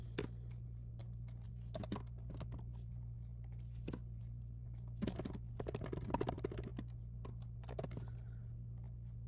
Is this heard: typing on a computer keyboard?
yes